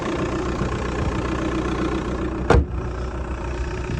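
A 2002 VW Golf Mk4 GT TDI diesel with 222,000 miles idles steadily, a close, even low rumble with a brief sharp click or knock partway through, no talk.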